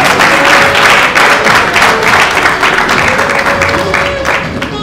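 Audience applause fills a certificate award ceremony at a hotel, a dense, steady wash of many hands clapping close and loud throughout, with a faint voice briefly audible underneath.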